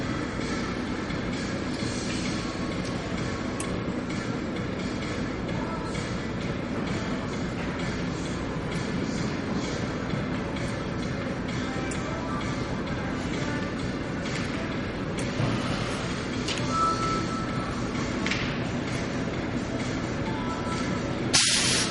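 A two-head uPVC window welding machine runs through its cooling cycle with a steady, loud broadband hiss and rumble that holds unbroken for over twenty seconds, with faint clicks near the end.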